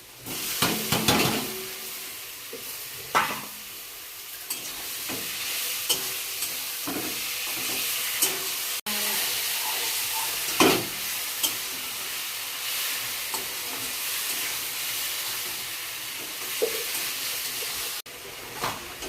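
Spice masala stirred and fried in a pan after onions: continuous loud sizzling and hissing with frequent clattering stirs and scrapes throughout, no voices.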